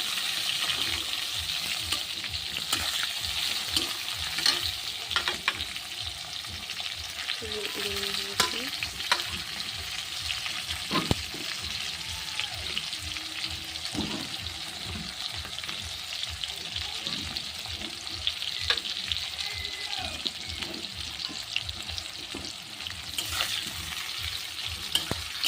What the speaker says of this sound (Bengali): ভাজি দিচ্ছি